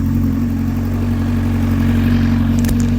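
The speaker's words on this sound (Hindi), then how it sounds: "ये मोटरसाइकिल स्टार्ट हो गया।" A Kawasaki Ninja Z1000 sport motorcycle engine runs steadily at idle, a loud constant low rumble close by that holds throughout.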